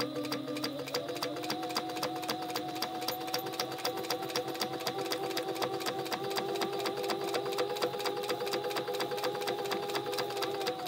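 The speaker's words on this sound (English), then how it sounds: "So we're going to top stitch this." A sewing machine top stitching a fabric pouch runs steadily throughout, producing a fast, even mechanical whir with rapid regular needle ticks at a close, constant level.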